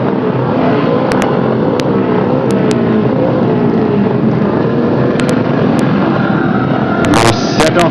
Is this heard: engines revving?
yes